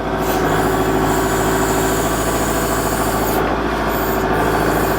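A Kubota L47 backhoe loader's diesel engine runs steadily at close range, a loud continuous drone with mechanical clatter and no talking.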